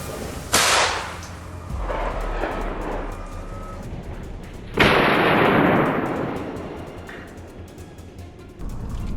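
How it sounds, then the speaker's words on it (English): A single sharp gunshot cracks out during a wild boar hunt near a farm, followed by a second loud blast a few seconds later with a long decaying echo, then a faint later bang. "A quick, precise shot."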